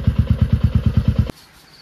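A motorcycle engine idles close by with a rapid, even thumping putter, then cuts off abruptly, leaving near silence.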